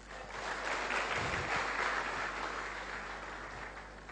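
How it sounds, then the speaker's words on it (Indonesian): Audience of several hundred applauding at an evening Diamond Network business event, a steady, dense wash of clapping sustained throughout without talk. "Untuk itu tepuk tangan untuk Bapak Ibu sekalian."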